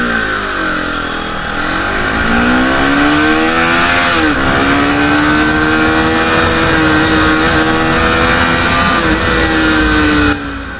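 A motorcycle on a road ride revs and accelerates loudly, its engine pitch climbing through several gear changes with brief dips between shifts, close and continuous for about ten seconds with no talk.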